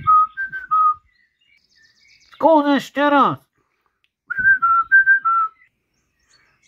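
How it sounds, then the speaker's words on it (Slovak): A cartoon mouse whistles short melodic tweets at the start and again near the end, with a child-like voice speaking briefly in between. "Zavolaj myš a ona zapíska."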